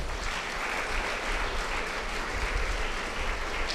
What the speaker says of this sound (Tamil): நல்ல விஷயங்கள் சொன்னால் கை தட்டணும், தாராளமாக தட்டணும்.